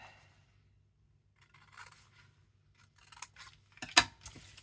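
Scissors trim scraps of magazine paper, with a few quiet snips and rustles building to a sharp, crisp cut near the end, close up in an otherwise quiet room.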